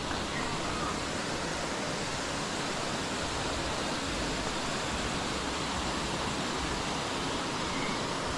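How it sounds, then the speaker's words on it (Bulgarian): The Hotnishki waterfall makes a steady, dense rushing roar that lasts the whole stretch without a break. It is even in level and there are no voices. "Хотнишки водопад."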